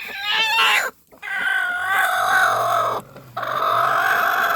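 A broody hen settling onto a clutch of eggs gives agitated, throaty clucks in two loud bursts separated by brief pauses, close to the listener, with a low hum beneath.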